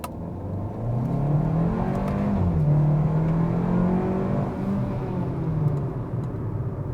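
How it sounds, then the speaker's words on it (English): Steady engine and road hum from a 2024 Hyundai Kona pulling away from a stop up to 50 km/h, a continuous rising drone with smooth gear shifts heard from inside the cabin, no talking. "let's go 0 to 50 and see how it does"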